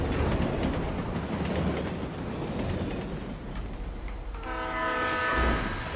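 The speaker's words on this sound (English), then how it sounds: "That train was not that close." A video game train rumbles past with clattering wheels, then its horn sounds in a loud sustained blast near the end.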